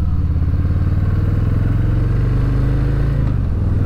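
A Harley-Davidson Fat Boy 114 motorcycle cruising through turns, its loud, steady low engine rumble and exhaust throb close up, dipping slightly in pitch near the end.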